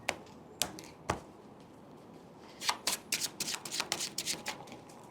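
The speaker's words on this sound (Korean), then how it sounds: "첫 번째 카드 제가 중간에 넣고" A playing card slid into the middle of a deck, heard as a few sharp isolated card snaps followed by a quick rapid riffle of crisp clicks, faint and close.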